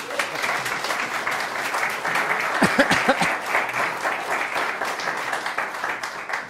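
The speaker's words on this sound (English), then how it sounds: "I wasn't quite expecting the applause yet" Sustained audience applause fills the hall after a talk at a South Pole themed gathering in Jaffrey, a steady dense wash of many hands that holds at an even level throughout, with a brief voice briefly rising over it midway.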